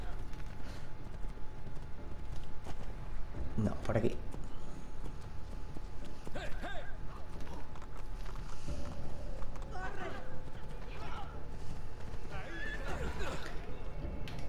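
A horse neighs and its hooves clatter in Assassin's Creed II, the whinny standing out mid-clip over ongoing game ambience while someone speaks Spanish at times.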